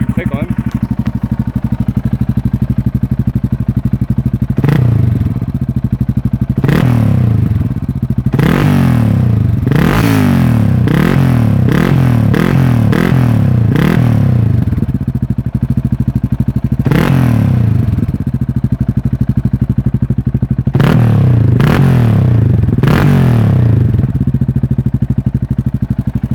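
A Yamaha MT03 660cc motorcycle engine idles loudly up close, with repeated sharp throttle blips and revs in bursts over a steady low rumble.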